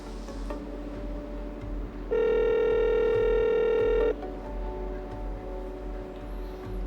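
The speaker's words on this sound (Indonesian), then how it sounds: "Tapi aku pengen nelfon Alea" A phone ringback tone sounds while a call is being placed: one steady electronic tone holds for about two seconds, then stops, over a low background hum.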